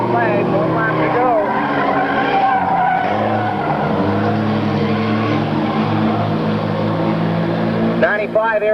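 Race cars speed around the track on the final lap of a 1998 race, engines roaring continuously with tire squeal, while a voice talks over the din.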